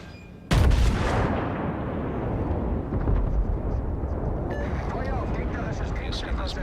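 A naval video game battle, with guns firing at the battleship Tirpitz: one sudden heavy cannon blast, then a long rolling rumble and a faint crackle of more distant fire.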